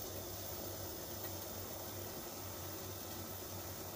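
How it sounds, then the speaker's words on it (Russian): A steady, low hiss and rumble of water at a rolling boil in a pot, continuous and fairly quiet, with no voices. "Вода кипит."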